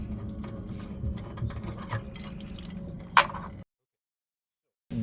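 Water drips and splashes from a Furrion tankless water heater after its caps are removed, a close run of wet patters and one louder splash, then a stretch of silence.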